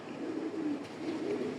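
A pair of large, light-coloured racing pigeons gives low, steady cooing close by, a soft continuous murmur rising and falling over about a second and a half with no talk.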